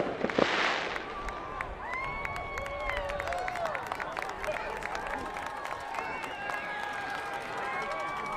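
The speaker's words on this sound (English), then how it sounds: "Big thank you to Edwin and Chris Brewer for the fireworks display tonight." Fireworks display at a high school football game, with scattered pops and crackles over steady crowd noise and announcer-style talk through the clip.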